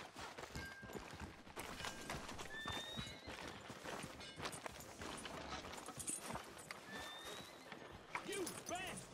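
In Red Dead Redemption 2, horse hooves clip-clop along a town street and a horse whinnies, with game dialogue spoken over the scene.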